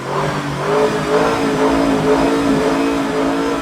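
A luxury sports car priced around 6.5 to 7 crore idles loudly with a deep, rumbling engine note that swells and settles in gentle surges, close and continuous with no talk over it.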